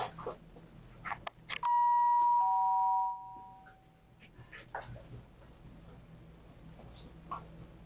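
Doorbell chime captured on doorbell camera footage at 3 in the morning. A single clear electronic ding sounds and rings out, with faint background noise and some breathy sounds around it.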